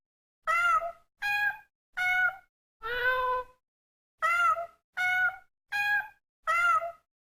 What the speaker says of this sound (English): cat clock,